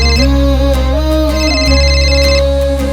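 A mobile phone ringtone plays loudly as a continuous melodic tune with steady repeating tones, alone and close by without any talking.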